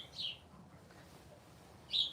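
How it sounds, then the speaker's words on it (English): Pet birds give two short, sharp chirps indoors, one near the start and one near the end, with quiet room noise in between. "you birds are fucking annoying"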